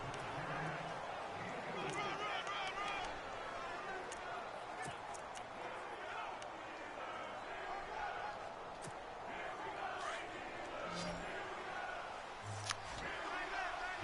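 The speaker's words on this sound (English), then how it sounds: "Hear the crowd trying to get the Steelers into it with the "Here we go Steelers" chant." Pittsburgh Steelers stadium crowd at a 1962 football game against Denver, a broad continuous roar of many voices with a rhythmic chant rising and falling over several seconds, heard at a distance under nearby talk.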